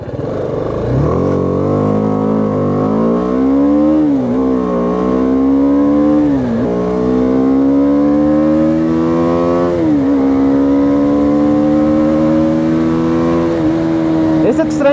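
BMW G 310 R motorcycle engine revving loud and close, pitch rising in repeated sweeps and dropping sharply at each downshift, with a rider talking over it.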